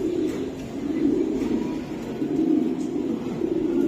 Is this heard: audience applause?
no